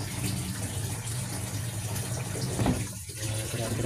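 Water flows and gushes steadily from a leaking washing machine drain hose on the heavy setting, a close, continuous rushing stream that swells briefly near the end.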